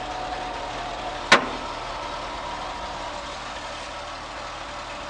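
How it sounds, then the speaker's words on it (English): A 1956 Dodge C-3 truck idling steadily after a cold start, a low even engine rumble throughout with one sharp click or tap midway, no voices. "truck will sit and run like that all day long"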